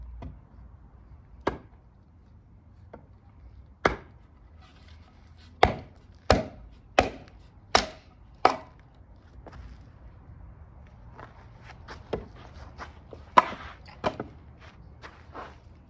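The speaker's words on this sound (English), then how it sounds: "let me get this here and show you guys how this thing can baton too" Knife batoning through wood with an RR Black Mule Bowie, a cheap pot-metal budget blade: a string of sharp, loud wooden cracks, irregular at first, then a steady run of strikes, followed by a cluster of lighter, quicker knocks.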